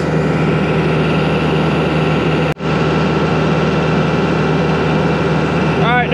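John Deere 450J dozer engine idling steadily during a transmission calibration, a loud continuous low drone with one brief dropout partway through and a short whistling tone near the end.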